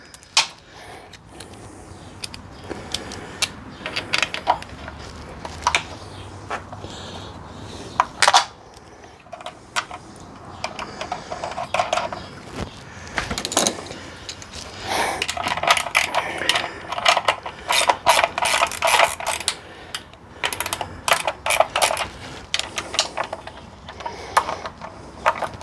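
A ratchet tightening bolts on an electric motor mount during an EV conversion of a Jeep CJ-7, with intermittent clicking pawl strokes and metallic clinks, close up and moderately loud.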